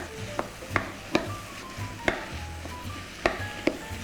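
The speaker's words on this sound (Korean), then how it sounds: "아까 밑간해 놓은 청주와 간장만 넣어서 양념한 거를 넣어서 같이 또 볶아주세요" Thinly sliced meat, marinated in rice wine and soy sauce, is stir-fried for a root-vegetable curry soup: a low, steady sizzle punctuated by regular sharp spatula taps against the pan, close and without speech.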